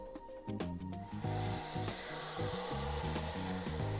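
Beef chuck for pot roast searing in hot olive oil in a Dutch oven, a loud steady sizzle that bursts in after about a second and continues evenly, with wooden scraping and rubbing sounds underneath.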